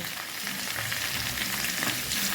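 Malabar spinach curry sizzles loudly and steadily in a pan while being stirred, a dense close frying hiss with faint scraping underneath and no voices.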